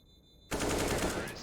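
Automatic gunfire bursts out in a Counter-Strike: Global Offensive match after a brief quiet lead-in, sustained and loud for the final second.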